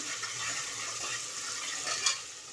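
Crushed garlic, ginger and green chili paste sizzles softly in a hot pan, a steady faint frying hiss with a brief stir near the end.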